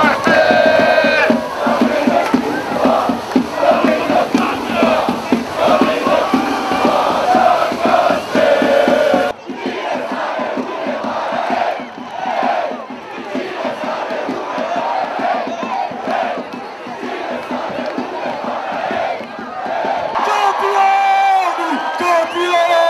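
A dense crowd fills the courtyard of Corvin Castle in Hunedoara, cheering and shouting loudly and continuously as footballers push through, with a brief dip partway before the roar resumes.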